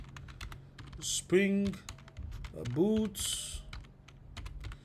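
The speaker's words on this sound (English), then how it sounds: "let's type it in" Rapid clicks and taps from a computer keyboard, close and steady, with someone speaking over part of the typing.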